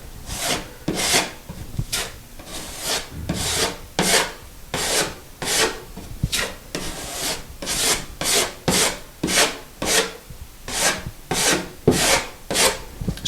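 Spackle is scraped smooth over a filled hole in drywall, a rhythmic series of about twenty scraping strokes, close and steady, each a short rasping swipe with brief pauses between.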